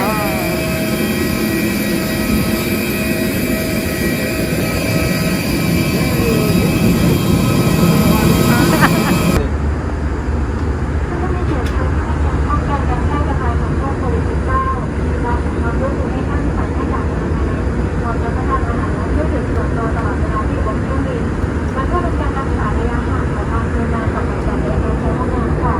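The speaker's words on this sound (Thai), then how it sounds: "เราจะพาเครื่องบินไปไหนเนี่ย" Steady, loud engine drone inside a passenger airliner in flight on a Thai domestic trip, a continuous broadband roar that shifts to a lower, duller tone partway through, with faint voices underneath.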